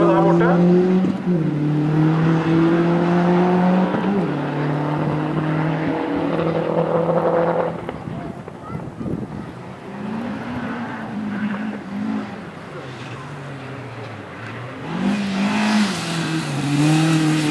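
A rally car at the BjerkeSprinten 2014 sprint rally drives the course with loud, strained engine drone that rises and drops through gear changes, fading then returning, while a commentator talks over it.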